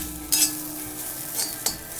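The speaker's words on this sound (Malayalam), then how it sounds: "ഈ ചീനച്ചട്ടി ആയിട്ട് പെട്ടെന്ന് ചൂടായി കഴിഞ്ഞാൽ പിന്നെ പെട്ടെന്ന് തന്നെ ഇത് വറുത്ത് കിട്ടും" Shallots roasting in a hot Indian cheenachatti pan, with a soft steady sizzle under scraping stirs, two or three sharper strokes standing out over the gentle frying hiss, close and alone without talk.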